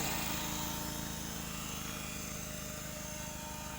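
A small radio-controlled AH-1 Cobra model helicopter's rotor whines and buzzes steadily at close range in hand-controlled flight, with a rapid chopping pulse running through it the whole time.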